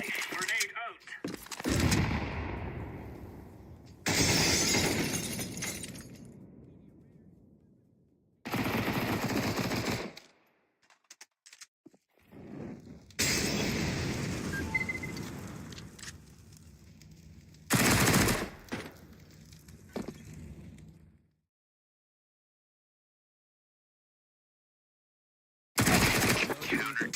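A grenade blast and gunfire in a Counter-Strike match come as loud separate bursts of shooting and explosion, split by short quiet gaps and a longer silence before a final burst.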